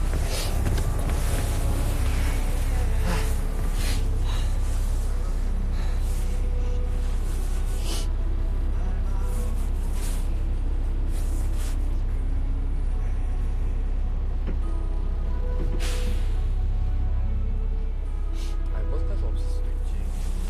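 A moving bus rumbles with a heavy, constant low roar and rattling, while people talk close by over the engine noise, with occasional sharp knocks.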